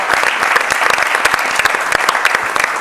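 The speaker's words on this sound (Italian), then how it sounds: "Vogliamo fare un applauso a Deborah Sbei" A television sports studio audience applauds a champion athlete, loud, close, brisk clapping with distinct sharp hand strikes over a dense bed, filling the short stretch.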